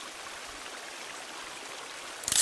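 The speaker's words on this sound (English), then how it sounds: "I'm gonna put some water on the fire for you" Water poured onto a campfire in the survival game The Forest, a soft steady hiss and splash like a running stream, low and even throughout, ending with a brief louder burst.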